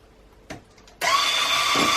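An electric mixer beats gluten-, lactose- and yeast-free chocolate tray cake batter. A faint click is followed by the motor switching on into a loud, steady, high whir that runs without a break.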